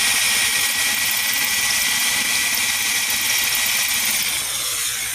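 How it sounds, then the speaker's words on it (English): A drill bit cuts steely into the beam of a VW Bus in a steady, loud, high whine that holds level for the whole stretch, with no voices. "Just so this drill bit will cut fast. Yeah. See, that's just cutting beautifully now."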